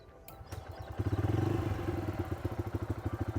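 Exhaust of a Bajaj Freedom motorcycle started directly on CNG, idling with a close, even single-cylinder putter of regular pulses after a few brief clicks at the start.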